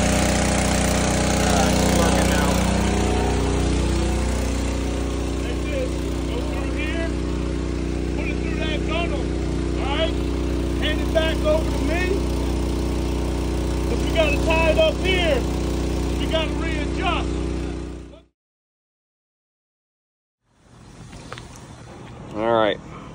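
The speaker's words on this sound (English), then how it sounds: "Go ahead and get the trash pump on now." A gasoline trash pump engine runs steadily while a sunken boat is raised, a loud, even drone that holds for most of the clip before cutting out abruptly, with voices talking over it.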